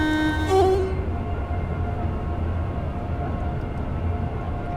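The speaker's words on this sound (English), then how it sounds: "there's another 4-car train" A four-car Class 350 electric train in Train Sim World 5 on the Milton Keynes to Euston line passes by with a steady low rumble and rolling rail noise, preceded by a brief tonal hum at the start.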